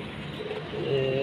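Soft, low cooing of breeding pigeons on a rooftop, a brief murmuring call rising at the end, faint background hum.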